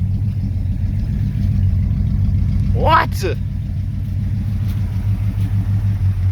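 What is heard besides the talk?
old Dodge engine idling after carburetor swap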